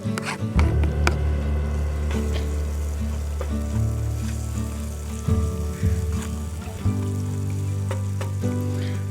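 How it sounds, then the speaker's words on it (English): Onion and jalapeno sauté in bacon fat at a campsite in the woods, a loud, continuous sizzle with occasional stirring scrapes and shifts in intensity, heard up close with no one talking. "I'm going to saute this mixture of onion and jalapeno in the bacon fat."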